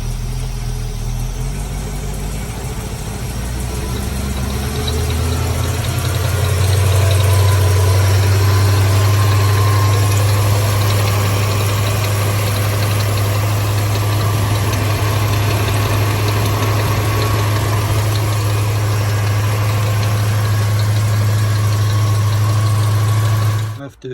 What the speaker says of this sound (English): I hear some knocking sound in that side, which makes me nervous a little bit